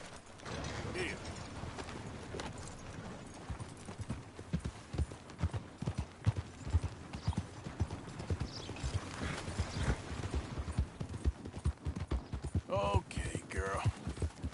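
A horse in Red Dead Redemption 2 trots and gallops with steady, rhythmic hoofbeats clip-clopping close by, joined by creaking tack and a brief whinny near the end.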